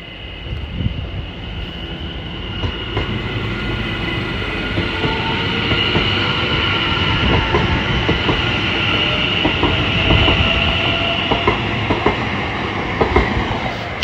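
Greater Anglia electric multiple unit 720530 pulls out of Cheshunt station, a steady loud rumble of wheels and motors with rhythmic clicks over rail joints and a faint high whine, building slightly as it departs.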